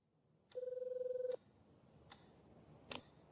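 Ringback tone of an unanswered phone call, one long electronic purr followed by fainter repeated clicks or tones, heard faintly and close with no speech.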